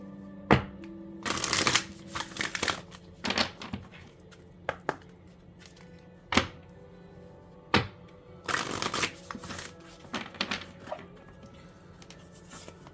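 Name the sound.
shuffling a deck of cards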